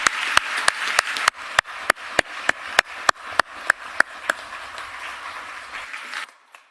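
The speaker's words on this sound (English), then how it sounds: "Another round of applause." Scattered hand claps at a Guilford County Commissioners meeting, about fifteen sharp separate claps spaced unevenly across several seconds, close and crisp, with a faint room murmur that tapers off at the end.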